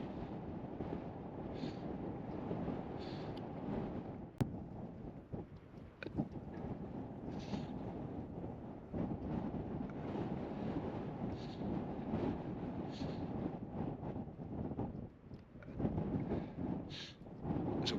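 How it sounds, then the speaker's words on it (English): Strong gusting wind buffets a microphone outdoors at Stewartby Quarry, a loud, low, rumbling roar that surges and eases in waves over a long stretch with occasional faint higher noises, no voices. "Oh my god, that is so windy."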